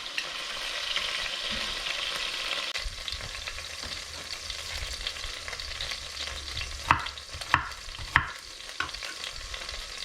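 Chopped ingredients frying in oil and beef fat, a continuous loud sizzle with a few sharp knocks of a utensil against the pan near the end.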